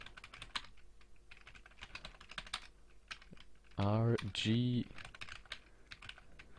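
Rapid clicking of computer keyboard typing during game programming, soft and close, in irregular bursts, with a person talking briefly over it partway through.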